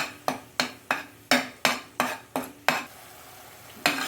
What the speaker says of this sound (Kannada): ಇದು ಸ್ವಲ್ಪ ಹಸಿ ವಾಸನೆ ಹೋಗೋವರೆಗೂ ಸ್ವಲ್ಪ ಈಗ ಫ್ರೈ ಮಾಡಬೇಕು